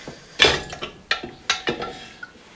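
A collar is unscrewed from a shock absorber by hand, giving a quick series of sharp metallic clicks and scrapes, about six distinct ticks over a couple of seconds, close and fairly quiet.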